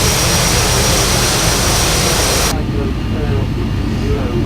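A loud, steady jet engine roar from a three-engine airliner with tail-mounted engines in Flight Simulator X, a continuous broadband rush that abruptly loses its hiss halfway through and carries on as a duller low rumble.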